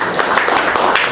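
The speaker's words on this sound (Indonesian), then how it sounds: "Tepuk tangan untuk kelompok 2" A classroom group claps for a student team after their poster presentation, a brief burst of dense, close applause with individual hand claps audible.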